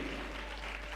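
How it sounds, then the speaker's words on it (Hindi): A church congregation claps together in a continuous wash of applause, moderately loud, with a low hum running underneath. "जोर से ताली देंगे, जोर से ताली देंगे"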